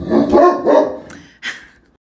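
A dog barks and whines near and loud, two drawn-out whimpering barks followed by a short sharper yip, then silence.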